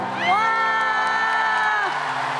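A crowd cheers loudly for a singer, with one sustained, whoop-like voice ringing above the steady roar for about two seconds before it slides down and fades.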